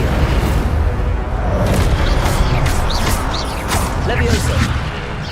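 Incendio fire spell cast in Hogwarts Legacy, a loud, dense whooshing roar with booming rumble, heard up close under a speaking voice amid ongoing game sounds.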